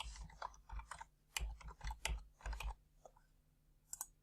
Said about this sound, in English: Easiest way to log in is to type in your email address